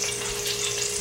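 Tilapia fillet dipped in egg and seasoned with salt and pepper frying in a pan of extra virgin olive oil and butter, giving a steady close hiss of sizzling oil with no talk.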